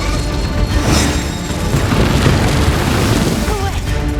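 A loud cartoon bomb explosion fills the scene with a sustained booming roar and crackling burst, dense and close, with a character's voice briefly heard over it.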